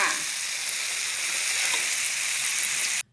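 Luffa and egg stir-fry in a pan after a splash of water, making a loud, even hiss of frying that cuts off abruptly at the end.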